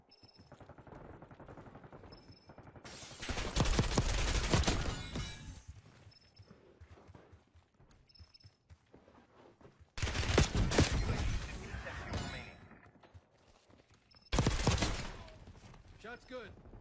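Video game gunfire breaks out in three loud, rapid automatic bursts, with quieter stretches in between where a player talks.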